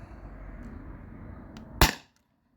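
A Beeman HDP50 Gen 2 CO2 pistol fires a rubber-coated steel ball: one sharp, loud crack near the end, after a low steady hum, then sudden silence.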